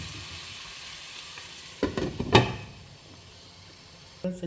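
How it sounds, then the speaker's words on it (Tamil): Potato and spinach frying in a pan give a low, steady sizzle, broken by a few brief scraping stirs of a utensil near the middle and another scrape at the end. "திறந்து இடைக்கிட ஒன்று மிக்ஸ் பண்ணி கொடுக்கணும்"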